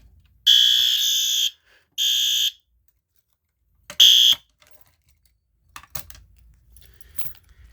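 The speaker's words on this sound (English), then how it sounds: "we're just gonna go ahead and pull the fire alarm. The strobe is gonna flash and the horn's gonna go off." A fire alarm pull station sets off its horn in three sharp bursts, two long blasts then a short one, loud and close, followed by faint clicks and handling noises.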